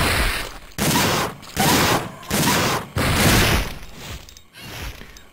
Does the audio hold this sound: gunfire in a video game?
yes